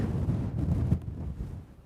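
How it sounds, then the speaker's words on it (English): Gusty wind buffets a hilltop in loud, rumbling bursts that ease off toward the end, with no voices present. "you can see when I turn around just how windy it is"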